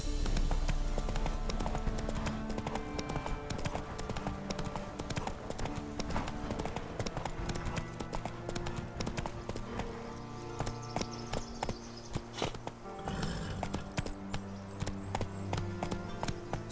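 Horse hooves clip-clop at a steady walking pace in The Witcher 3 video game. The even, close hoofbeats continue throughout beneath a constant bed of game music and ambience.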